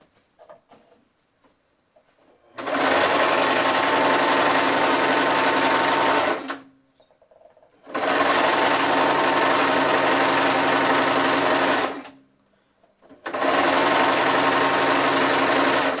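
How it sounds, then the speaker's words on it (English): A loud, close sewing machine hems the fabric cover around a circular foam shield, running in three long steady bursts separated by brief pauses. "I'm going to hem this all the way around the whole circle"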